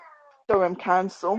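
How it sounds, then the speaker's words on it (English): A house cat meows nearby in a home office during an online business presentation: a short stretch of speech, then three drawn-out, fairly loud meows in quick succession. "Excuse my cat in the background."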